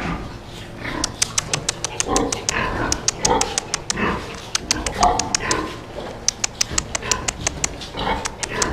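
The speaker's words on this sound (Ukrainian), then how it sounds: "Безім'янна поросята." Thirty-day-old piglets squeal and grunt in a busy cluster in a pig barn, with sharp repeated squeaks and snuffling noises close by.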